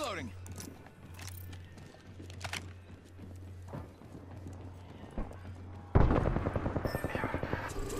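Video game gunfire in a battle royale match, sharp cracks scattered over a steady low hum, then a dense rapid burst of shots near the end.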